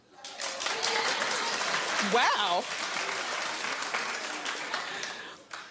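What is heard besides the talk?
studio audience clapping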